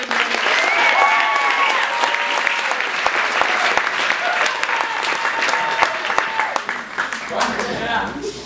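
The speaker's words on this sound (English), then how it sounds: "Give a round of applause." A theater crowd at an improv comedy show applauds loudly as volunteers come up onstage, with cheering voices and people talking over the steady clapping.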